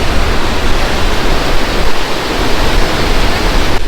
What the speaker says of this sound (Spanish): de ahí te vas a ver cómo cae la cascada